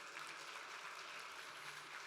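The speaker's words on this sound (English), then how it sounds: "You can clap, yes." Soft, steady clapping from a gala audience at an anniversary dinner, faint and distant, holding evenly throughout.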